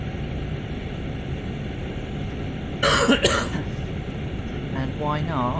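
A person gives a short, harsh cough and clears their throat once, loud and close, over a steady hum from a German train in Train Sim World 2020. A brief voiced sound follows near the end.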